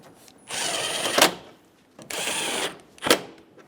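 A power tool drives two bolts into the top of a 2005-2015 Toyota Tacoma grille in two separate whirring bursts. Each burst ends in a sharp tightening jolt, with quiet gaps between.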